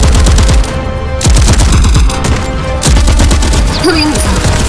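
Loud, dense gunfire in an animated sci-fi battle, rapid automatic bursts and heavy booming shots overlapping in continuous volleys with brief lulls.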